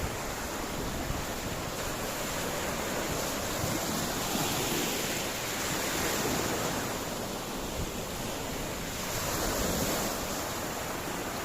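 Waves washing onto Kalapathar Beach on Havelock Island, a continuous broad hiss of surf swelling and easing gently, with wind noise throughout and no voices.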